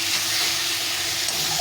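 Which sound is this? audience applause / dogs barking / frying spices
frying spices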